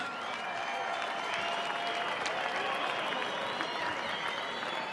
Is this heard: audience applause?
yes